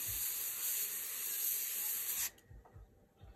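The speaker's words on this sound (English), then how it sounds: "I'm going to spray." A loud, close airbrush hiss sprays Createx grey paint steadily for about two seconds, then cuts off abruptly, leaving soft low thumps and near quiet.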